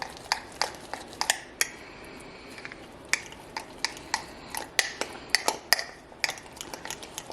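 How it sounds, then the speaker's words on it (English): A fork stirs sourdough starter in a container, giving sharp clinking taps against the sides in an irregular burst, close and fairly loud, with no one speaking. "so we're just going to use a fork. Remember I told you can use a fork, and you're going to just mix it in together"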